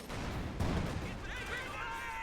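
leIG infantry gun shelling in a Company of Heroes 2 match: continuous rumbling battle noise with a heavy, booming shell impact early on, then crackling gunfire and whining tones, loud throughout with a voice faintly underneath.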